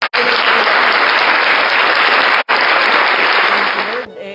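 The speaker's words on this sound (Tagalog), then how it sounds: "Palakpak natin." Church congregation applauding in a loud, dense burst of clapping that fills nearly the whole stretch, with one brief gap midway before it trails off at the end.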